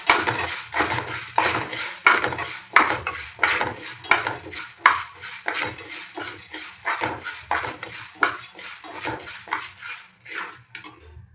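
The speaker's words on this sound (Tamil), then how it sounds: "தட்டில் போட்டு உளுத்தம்பருப்பும் வறுக்கணும்." Urad dal roasting in a pan for bitter gourd idli podi, with dense, rapid metallic scraping and clattering of a spatula against the pan running almost continuously, loud and close, with no talk.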